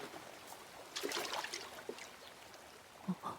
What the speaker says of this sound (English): the sound of water will just be there